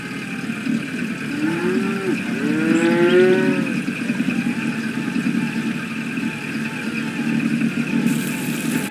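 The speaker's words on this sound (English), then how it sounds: "He's feeding the cows." Cows lowing on a farm in the video game Nancy Drew: The Secret of the Old Clock, two or three drawn-out moos in quick succession near the middle over a steady low hum, fairly close and loud, no talking.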